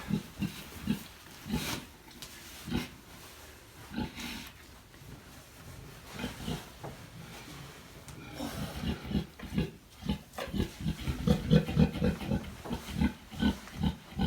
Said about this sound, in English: Good looking pigs too.